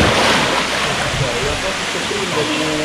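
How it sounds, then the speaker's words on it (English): The waterfalls at Nydri on Lefkada give a loud, steady, broadband rush of falling water, close by and continuous, with possible faint voices in the background. "So we've got to the main part of the waterfalls."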